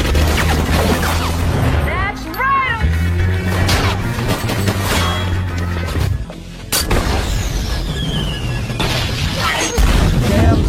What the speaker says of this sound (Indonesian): Sehingga aksi baku tembak sengit tidak dapat lagi dihindari